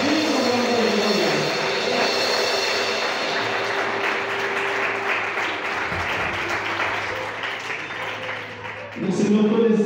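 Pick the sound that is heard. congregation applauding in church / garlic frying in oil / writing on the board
congregation applauding in church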